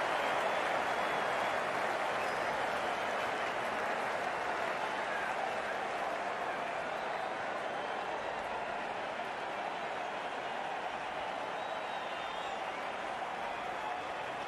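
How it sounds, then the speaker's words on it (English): A stadium crowd in the Cricket 19 video game cheers and applauds after a boundary four, a steady, dense roar of clapping and voices that holds without a break. "The crowd on their feet."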